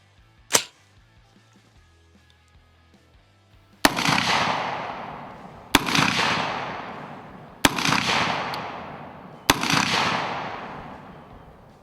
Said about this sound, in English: we're gonna shoot it unsuppressed, a few shots, cover your ears.